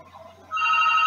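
A telephone starts ringing halfway through, a steady electronic ring that holds on at fairly loud level over a quiet room during an online class.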